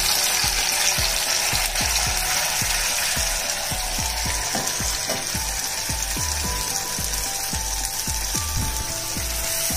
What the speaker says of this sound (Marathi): आपल्याला हा मसाला तेल सुटेपर्यंत भाजून घ्यायचा आहे